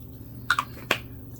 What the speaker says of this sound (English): And I'm going to go in with a little bit of the Professional setting spray.